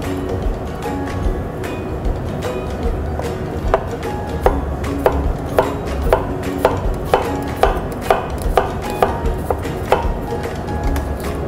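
A knife chops halved garlic cloves on a cutting board in quick, regular, crisp strikes over a low background hum, close and fairly loud with no talk.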